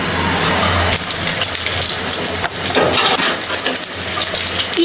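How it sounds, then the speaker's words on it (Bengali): Pezgi rolls frying in hot oil, a loud, steady, dense sizzle and crackle throughout with faint stirring and no talk. "তেল আগেই গরম দিয়েছি এগুলো ভেজে নেব"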